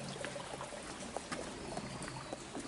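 Water flowing steadily from a stream's source in hilly bushland, a continuous near trickle and gurgle with small splashes, no voices.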